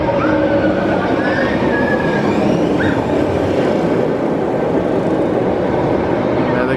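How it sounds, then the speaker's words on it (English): A Shanghai Disney ride train pulling out of the station, a steady loud rumble with faint squeals, heard up close without talk. "That might have been the last train that just left"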